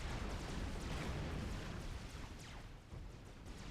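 Tanks trading fire in the real-time strategy game Supreme Commander: Forged Alliance, one against five, with dense overlapping booms and explosion rumbles forming a continuous loud barrage of cannon shots and impacts.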